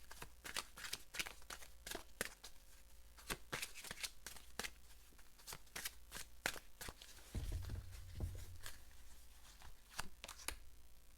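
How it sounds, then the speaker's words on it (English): Angel Therapy Oracle cards are shuffled in a steady run of crisp riffling flicks, close and moderately loud, with a brief soft rustle as a card is drawn and no talking. "let me go ahead and pull an Angel Therapy Oracle card for you"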